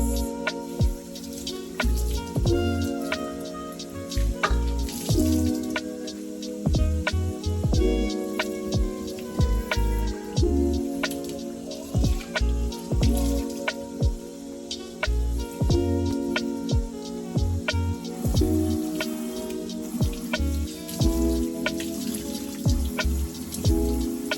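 Running water rinses hair on wash day, heard as scattered drips and splashes over a steady background, with no talking.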